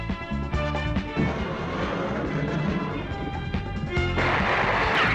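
A missile launch and explosion in an animated Cyborg 009 cartoon battle: loud sustained crashing blasts and rumbling booms fill the scene, with a harsher burst near the end and no speech over it.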